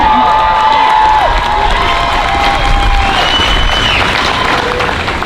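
A large outdoor crowd at a high school graduation applauds and cheers steadily, with whoops and shouts rising above the clapping, loud and continuous throughout.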